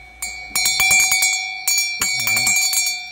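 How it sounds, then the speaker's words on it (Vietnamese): A metal bell is struck repeatedly in an uneven rhythm, each loud close ring sustaining a bright tone that decays between strikes, with a short pause before a second run of strokes. "đây cái chuông này"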